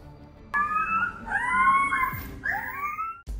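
Genetically engineered dire wolf pups howl up close in rising, wavering cries, with several overlapping voices that break off and start again.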